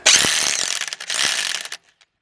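A Parkside corded impact wrench loosening a bolt: a loud, dense hammering rattle runs for nearly two seconds, briefly dipping midway, then cuts off abruptly into quiet.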